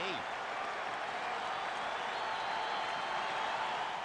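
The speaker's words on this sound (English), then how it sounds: "Now this big crowd, a lot of them on their feet, trying to root Penny out of the jam." A big crowd at a 2006 Padres vs Dodgers baseball game cheers, many on their feet, as a steady, distant roar of voices and clapping that runs under a broadcaster's commentary for the whole clip.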